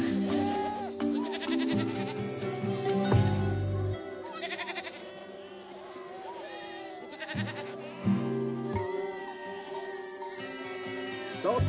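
Several goats and young kids bleat repeatedly in Mongolia, overlapping high and low cries close by, with buzzing insects in the background.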